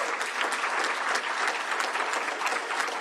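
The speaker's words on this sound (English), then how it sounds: "let's give another round of applause to the amazing young people who showed their courage" A crowd applauding steadily for a few seconds, dense clapping with no voices standing out.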